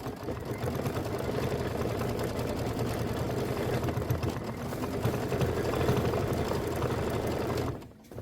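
Embroidery machine stitching a crown point detail on a mini quilt, a steady mechanical whirring hum that runs evenly before cutting off just before the end, with no talk.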